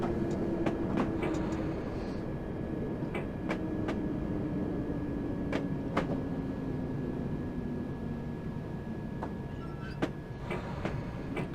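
A London Underground D78 Stock train in a video game runs with a continuous rolling rumble and a slowly sliding motor tone. Sharp track clicks punctuate it at irregular intervals.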